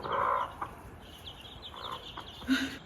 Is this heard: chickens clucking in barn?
yes